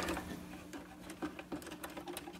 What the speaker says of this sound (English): Just take these screws off.